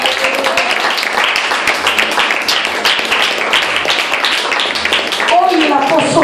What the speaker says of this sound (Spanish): ¿Cuánto le dan un aplauso a Cristo por esto?